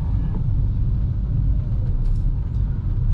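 A manual-transmission car idles and creeps forward in a traffic jam, its engine giving a steady low rumble that fills the cabin without pause.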